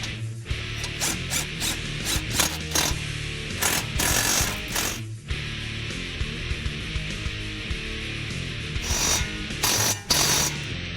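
A ratchet wrench clicks rapidly in bursts while tightening a nut on a 2011-2014 Mustang suspension during an Eibach Sportline coil spring install, close-up metallic pawl ticking with steady pauses between runs.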